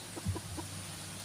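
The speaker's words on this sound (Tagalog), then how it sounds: "kaya mga manok ni Antonio" Soft, scattered clucks from a few chickens nearby, short low calls spaced unevenly over a quiet background hum.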